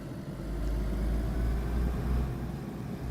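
A car engine rumbles steadily while driving in the survival game DayZ, a low continuous drone holding at an even level throughout, close and fairly loud, with no talking over it.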